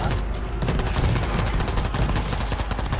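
Rapid, loud gunfire in the video game World War Z, a steady close-range automatic burst that runs without pause.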